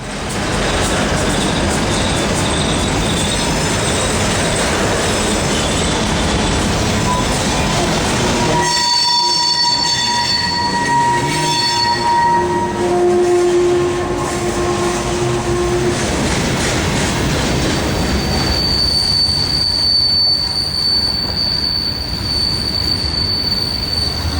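A Santa Fe freight train led by a GP35, ALCO RSD-15 and SD-24 locomotives rumbles loudly past with heavy continuous rail noise and sustained high-pitched wheel squeals rising over it.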